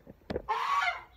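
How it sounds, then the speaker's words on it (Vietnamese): A single Indonesian goose gives one loud, close honk, preceded by a few soft clucking notes. "Bởi vì ngỗng tiếng kêu to, thính á."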